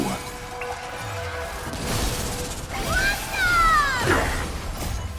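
Shattering effect from the video game Honkai: Star Rail, a mid-level crash and breaking burst with sweeping whooshes and rising metallic tones building toward a sharp peak near the end, over a background game score.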